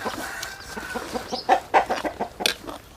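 Chickens cluck in short, scattered bursts at close range, a few sharper calls breaking through a soft background.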